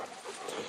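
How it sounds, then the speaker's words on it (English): A pet dog barks or yips faintly outdoors by a wooded creek trail, in a short burst buried under steady broadband outdoor noise. "What are you barking at?"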